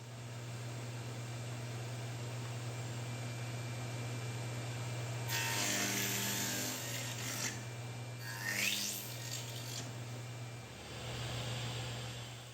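Saw cutting wooden leg joints for a love seat, a steady broadband rasp in two bursts midway through, close and fairly loud over a constant low workshop hum, no talking.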